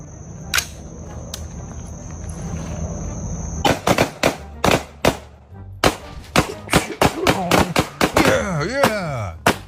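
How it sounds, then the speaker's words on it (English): Gunshots from a woman shooting beer cans: after a few quiet seconds, a rapid, irregular series of sharp, loud cracks rings out, each shot followed by a short echo. "a woman shooting beer cans"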